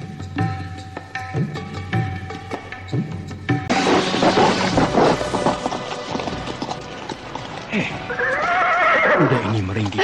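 Frightened horses whinny loudly and repeatedly while hooves clip-clop and a crash sounds, in a dramatized scene with voices and music mixed in.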